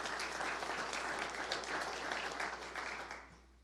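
An audience at a university athletics giving-week kickoff applauds steadily for several seconds, the clapping thinning and fading toward the end.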